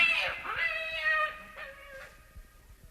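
A cat meows loudly and close up, a couple of drawn-out, wavering cries with a short break between them.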